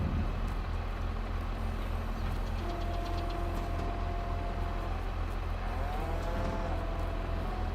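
Cows in Farming Simulator 22 moo in a couple of drawn-out calls, steady at a middling distance over a constant low machine drone.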